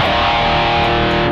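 A dense, saturated wall of high-gain distorted electric guitar through a Rocktron Metal Planet Distortion pedal rings out continuously, loud and buzzing with heavy sustain.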